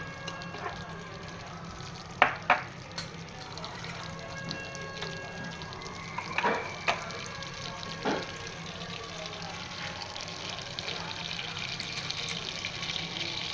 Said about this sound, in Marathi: बटर मेल्ट व्हायच्या अगोदर मी जिरं टाकून घेते, कारण तेल तापलेलं आहे.